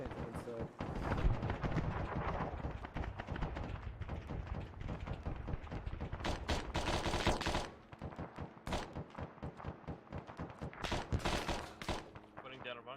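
Arma 3 video game gunfire, dense crackling bursts of rifle and automatic fire with distant booms, sustained and chaotic, mixed with people talking over voice chat.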